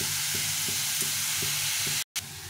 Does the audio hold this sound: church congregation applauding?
no